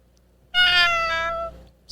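A kitten gives a single clear, high-pitched meow lasting about a second, close and fairly loud against a quiet background.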